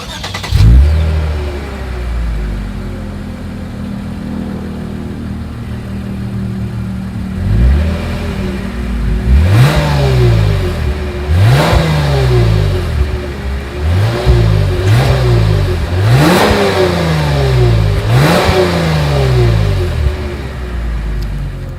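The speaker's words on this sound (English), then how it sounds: "As always, here is that exhaust clip." A 2020 Lexus IS 300 F Sport engine idles, then revs repeatedly through its exhaust in sharp bursts, each rising roar falling back, loud and close with no talking.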